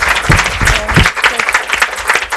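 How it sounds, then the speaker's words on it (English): A conference audience breaks into loud, close applause, a thick burst of clapping that stays strong and uneven across a couple of seconds with no talk over it. "Can we give a huge round of applause to everybody?"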